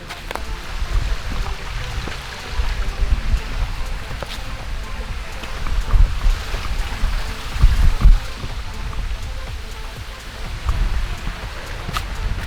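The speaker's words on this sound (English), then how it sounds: "I've been enjoying the view out here on the waterfall" A waterfall pours steadily nearby, a dense broadband rush with fluctuating surges and no clear talking over it.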